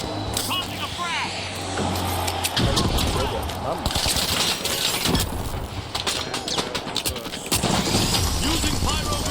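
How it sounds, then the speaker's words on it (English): Explosive bursts from a thrown frag grenade amid rapid gunfire and shattering debris in the video game The Finals, loud and chaotic, with voices talking throughout. "Tossing a frag."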